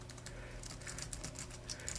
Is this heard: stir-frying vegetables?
no